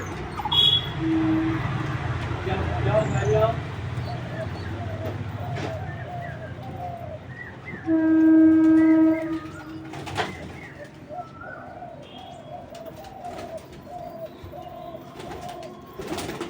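Madras pigeons coo close by in soft, repeated throaty phrases, with a few brief calls and faint background noise.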